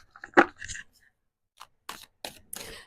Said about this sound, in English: Let's give these a good shuffle here.